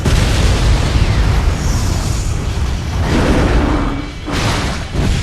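Rocket blasts in Ninja Gaiden 3: Razor's Edge, a loud continuous roar of explosions and booming thuds layered with bursts and pops, swelling and dipping over several seconds with no speech.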